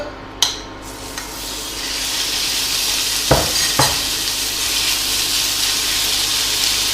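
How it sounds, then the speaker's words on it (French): Chicken strips, salted and peppered, frying in a little olive oil in a pan over medium heat: a steady loud sizzle throughout, with a couple of sharp clacks as pieces land or are moved, and no talk. "je vais commencer par faire revenir les lamelles de poulet"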